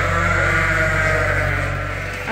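Sheep bleat loudly inside a barn on a sheep farm, a close, sustained chorus of bleating voices.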